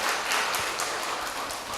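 An audience at a PKK anniversary gathering in Jombang claps steadily in a dense, continuous patter of applause from many hands, moderately loud and heard briefly.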